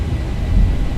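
Boeing 737 engines in a flight simulator spool toward takeoff thrust as a steady, loud low rumble that swells slightly midway through, with no voices.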